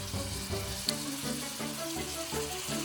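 Whole cloves and cracked cardamom pods sizzle as they fry in a pan for a Malaysian coconut chicken curry, a steady, close crackle with small pops and shifts as the pan is stirred.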